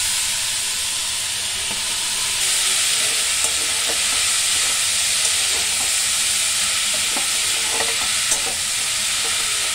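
Shredded cabbage stir-fried in a pan with garlic, ginger and green chilli paste for a sandwich filling, a steady loud sizzle broken by scraping, clattering stirring strokes, no one speaking.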